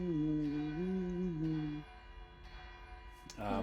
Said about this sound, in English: It's an alarm bell.